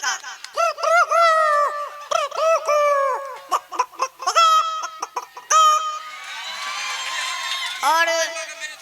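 A voice imitates a rooster's crow and a hen's clucking in a series of rising and falling yelps and cackles. A breathy, noisy stretch follows, all close and loud.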